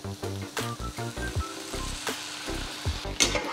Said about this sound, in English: So right now I'm just mixing everything together.